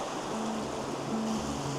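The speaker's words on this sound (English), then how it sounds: "the water races through that groin" Seawater surges and rushes through a coastal groyne in a brief, steady wash of surf, heard close and fairly faint with no voices.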